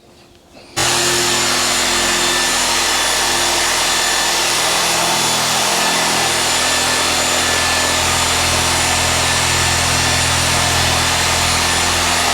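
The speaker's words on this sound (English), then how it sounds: "you can just see him angling the random polisher just a little bit" A random orbital polisher buffing around the windscreen of a 1996 MGF starts up after a short pause, then holds a loud, steady whirring drone with a rubbing hiss, unbroken to the end.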